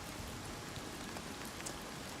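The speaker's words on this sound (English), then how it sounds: "And it's raining." Steady rain falling in the video game Oblivion Remastered on PC, a soft, even hiss of drops on surfaces with no talking over it.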